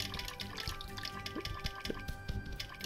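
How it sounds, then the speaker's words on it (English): Water drips steadily in the Cube World video game, a run of small plinks repeating at an uneven pace against a faint, constant background tone. "It sounds like water."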